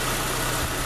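A 2010 Peugeot 207 with a 1.4 8-valve engine, freshly reassembled after cylinder head work, running steadily at idle, a close, constant mechanical hum and rumble heard alone for under a second.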